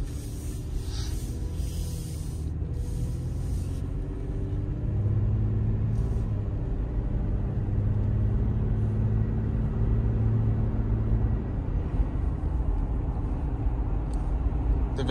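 A 2022 Toyota 4Runner SR5 driving on the road, its engine and tires producing a steady low rumble with a faint whooshing hiss, continuous and fairly loud from inside the cabin, without any talking.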